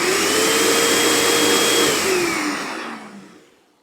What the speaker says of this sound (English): Okay, I've reinstalled the brush roll into the vacuum. Let's power it on and test it out.